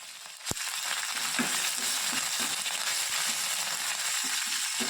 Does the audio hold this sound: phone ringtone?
no